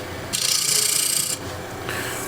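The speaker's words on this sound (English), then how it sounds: "Now that doesn't seem quite sharp, so I'll sharpen it." A woodturning tool is sharpened with a brief, close, harsh grinding rasp lasting about a second, set against a steady machine hum.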